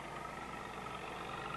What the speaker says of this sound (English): This baler is being pulled by a tractor